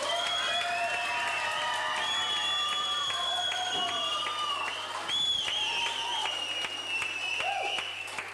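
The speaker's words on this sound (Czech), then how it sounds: "kterou určitě my všichni přivítáme velkým potleskem, pískotem a dupotem" A concert audience applauds, cheers and whistles continuously as a Prague rock band comes onto the stage. The sound is loud and sustained, with shouting voices mixed into the clapping.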